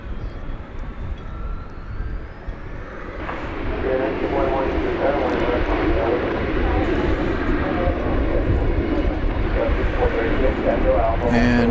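A Fiji Airways airliner taxiing at DFW Airport produces a continuous engine rumble and whine that swells after a few seconds and stays steady, with a voice talking over it.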